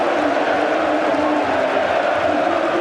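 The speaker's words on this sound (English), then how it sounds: "Something to cheer at long last." Football crowd cheering after a Wolverhampton Wanderers goal against Blackburn Rovers, a dense, steady roar of many voices filling the stadium, continuous and fairly loud without distinct peaks.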